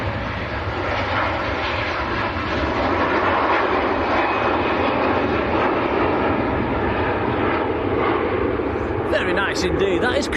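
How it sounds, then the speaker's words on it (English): A Virgin Atlantic Airbus A330 jet departs Manchester Airport, its engines a loud, steady broadband roar that holds throughout, with a voice talking over it. "Virgin A330 next out"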